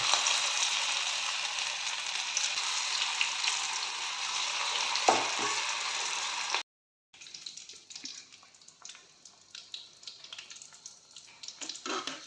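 Food fried directly in a pan gives a steady, close hissing sizzle that cuts off abruptly, then returns more faintly with scattered crackles.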